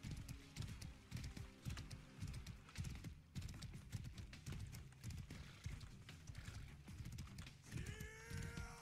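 Horse hooves clip-clopping at a quick, galloping rhythm in the medieval combat video game Mordhau, steady and fairly close, layered with game noise and a brief metallic ring near the end.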